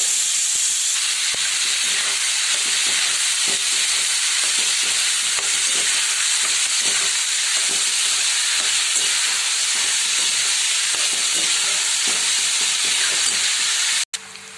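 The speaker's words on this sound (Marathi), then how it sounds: "आणखी थोड्या वेळ आपल्याला तो भाजून घ्यायचा आहे" Chopped onions fry with a steady, loud sizzle and hiss while being stirred in a pan for egg bhurji, the crackle running continuously without pause before cutting off abruptly at the end.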